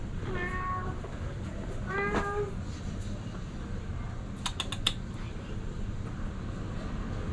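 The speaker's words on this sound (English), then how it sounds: "For some reason, a lot of cats like to stay up here." Cats on a street in Sorrento, Italy: two short, clear meows early on, heard over steady outdoor background noise, followed later by a few faint clicks.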